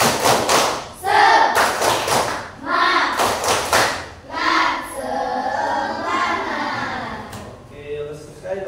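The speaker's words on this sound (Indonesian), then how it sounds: "coba kita tepuk semangat dulu. Tepuk semangat." A classroom of children claps out the 'tepuk semangat' chant in bursts of sharp, rhythmic hand claps, with voices chanting and calling along between the clap groups.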